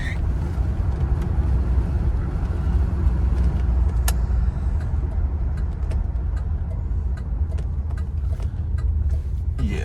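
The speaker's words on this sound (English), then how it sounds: "Car shifting smoothly." A 1988 Cadillac Brougham cruising on the road, its engine and road noise forming a steady, fairly quiet low rumble with light ticking clicks scattered throughout and no voices.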